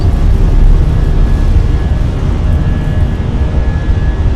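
A Fenix A320 airliner in Microsoft Flight Simulator rolls down the runway for takeoff and rotates, a loud, steady jet engine roar with low rumble and a faint tonal whine throughout.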